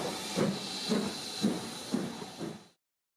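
A vintage steam locomotive, preserved from British Railways service, releases rhythmic puffs of hissing steam, five soft bursts about half a second apart, fairly faint, before falling silent.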